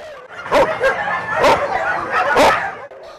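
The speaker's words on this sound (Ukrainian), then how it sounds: "Так жалісливо та гірко цей стафорширський тер'єр плаче, як тільки відчиняються двері притулку." Staffordshire terrier at an animal shelter door crying and whimpering in pitiful, repeated yelping bursts, loud and close, three main cries with short yips between.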